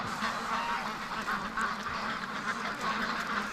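Several ducks quack and murmur softly in a continuous, overlapping chatter, close by with a steady background hum.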